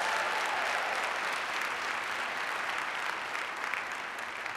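Sustained applause from a school-event audience honoring elementary schools, a dense, steady wash of many hands clapping at a fairly even level throughout with no voices standing out.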